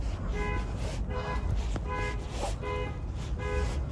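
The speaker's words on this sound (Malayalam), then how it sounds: "ആരത് വണ്ടീൻ്റെ മാതിരി ഹോൺ അടിക്കണ?" A vehicle horn honks in a run of short, repeated toots at a steady rhythm. The honks sound moderately distant and fairly quiet over a constant low background rumble.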